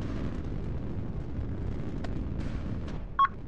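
Explosions and incoming fire batter units in a real-time strategy battle game: a dense, continuous roar of blasts and rumbling impacts, with a few sharp pops and a brief high electronic blip near the end.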